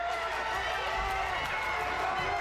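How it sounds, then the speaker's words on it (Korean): Daegu supporters cheering after a goal at a youth ice hockey semifinal, a broad crowd roar with shouting, steady and sustained in an echoing rink, a commentator's voice over it. "환호하는 대구 관중들"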